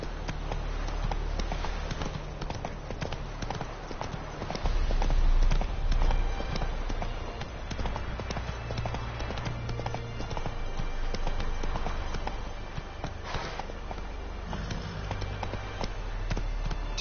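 Hoofbeats of the horse Roach galloping in The Witcher 3, a steady, rapid clip-clop that continues throughout under ambient game sound, briefly swelling louder midway.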